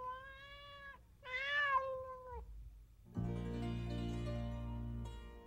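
A cat gives two drawn-out, wavering meows close by, one after another. A different sustained tonal sound follows.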